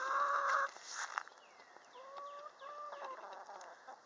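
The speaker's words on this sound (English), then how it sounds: "My chickens are ready to come out, and I will let them out in a second." Backyard chickens waiting to be let out of their coop cluck and call in short bursts, starting with a loud close squawk, then a softer run of clucks with faint songbirds behind them.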